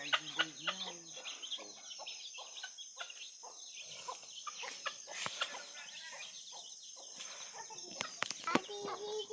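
Backyard chickens clucking and calling close by in a lively, irregular chorus of short clucks and squawks, with occasional sharper cries and faint background hum.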